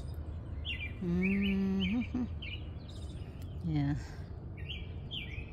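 Birds chirp in a home garden with roses and dahlias, short high twittering calls repeating across the scene while a person whistles in imitation of bird song and a voice speaks briefly.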